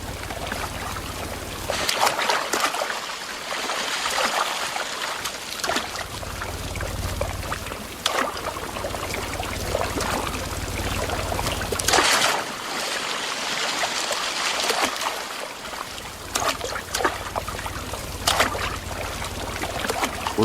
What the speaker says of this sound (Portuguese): Mas na Mata Atlântica, sempre tem um riacho por perto